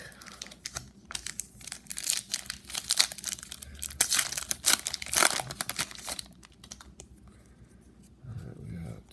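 A Topps Star Wars Solo trading card pack wrapper is torn open and crinkled, giving loud, close crackling and tearing in rapid bursts, with the handling quieting near the end and a low voice briefly heard.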